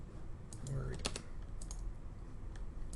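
A password being typed on a computer keyboard: quick, irregular key clicks, fairly faint, with a voice murmuring quietly in the background.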